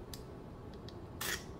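Scissors snip through loose threads from a diamond painting kit, a couple of crisp close cuts with a soft rustle, the last one longer and louder.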